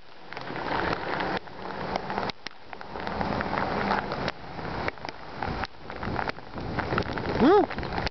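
Heavy storm rain pelts down with gusting wind, a dense loud wash that surges and drops in bursts, with a brief rising whistle near the end and no speech.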